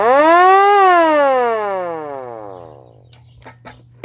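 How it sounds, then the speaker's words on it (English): A hand-crank air raid siren winds up to a loud rising wail, then slowly winds down in pitch and fades, followed by a few faint clicks and knocks near the end. "An air raid siren."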